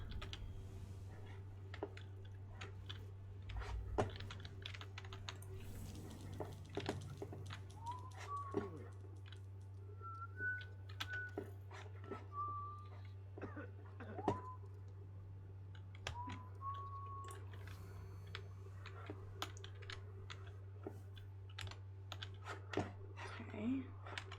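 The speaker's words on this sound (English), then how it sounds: "Where's the typing noise coming from?" Typing in the stealth game Dishonored: Death of the Outsider, soft scattered keyboard clicks over a low steady hum, with a few faint chirping tones mixed in, quiet and continuous.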